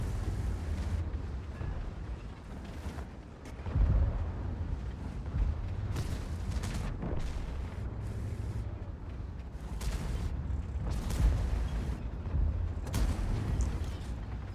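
Tank cannon shots in a tank video game, several booming reports spread through a steady low rumble of engine noise, moderately loud and distant-sounding, with no voices.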